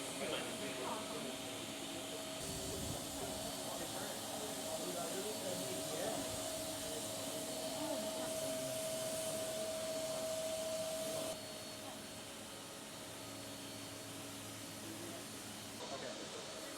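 An electric fan blows steadily to dry freshly sprayed paint, a constant broadband whoosh with a faint tonal whine, continuous and fairly close, easing slightly quieter near the end.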